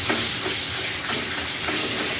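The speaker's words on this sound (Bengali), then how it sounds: "এরকমভাবে কন্টিনিউয়াস নাড়িয়ে এটাকে একদম শুকনো ভাজা ভাজা করে ফেলতে হবে।" Amaranth stem greens are stir-fried in a wok, giving a loud, steady hiss of sizzling that continues without a break for a couple of seconds.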